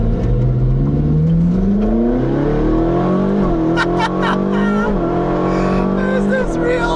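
A Ferrari 458 with an aftermarket exhaust revs hard and close, its pitch climbing in repeated surges with sharp crackles between shifts, loud throughout.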